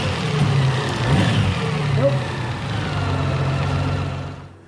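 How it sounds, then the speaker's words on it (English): A 2018 Honda Gold Wing motorcycle engine runs close by, a low steady idle hum that rises briefly in a short rev before settling and fading out. "now let's try revving the engine."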